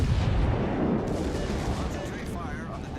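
Battleship secondary guns firing in a naval combat game, a dense, rumbling barrage of overlapping booms at steady loudness, with a voice speaking over it.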